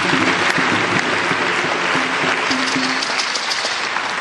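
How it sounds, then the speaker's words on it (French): A crowd at an official launch event applauds loudly and continuously, a dense wash of clapping filling the space without pause. "Je voudrais que vous l'applaudissez."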